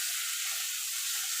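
Bitter gourd slices frying in hot oil in a home kitchen, cooked plain without onion, give a steady, close, continuous sizzle with a bright hiss that holds evenly throughout, with no voices over it.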